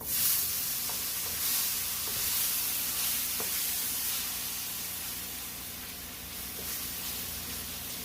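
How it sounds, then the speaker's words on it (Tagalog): Cubes of tofu fry in a hot pan for pansit palabok, giving a steady, close, broadband sizzle and hiss with occasional small pops and crackles throughout. "Ang uunahin nating iprito, yung ating tokwa."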